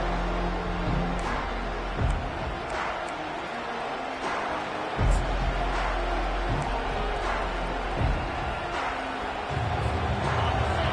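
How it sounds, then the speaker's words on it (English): A football stadium crowd roars continuously in a dense, swelling wash of voices during a kickoff return, loud and steady with surges and faint speech mixed in. "The roar of the crowd trying to fuel this defense to keep them pinned in their own end"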